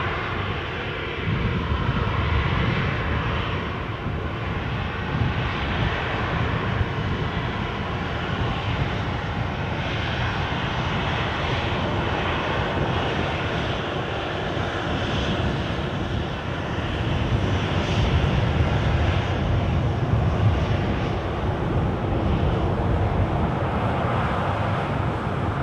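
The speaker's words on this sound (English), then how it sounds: "the plane coming into shot is a Ryanair departure to Copenhagen" Ryanair jet airliner departing from Edinburgh, heard as a steady loud engine roar that holds and swells gently throughout, with wind buffeting the microphone.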